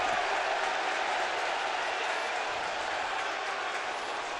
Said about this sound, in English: Crowd reacting a bit because that was kind of a similar pitch to the one that irritated Arenado in St. Louis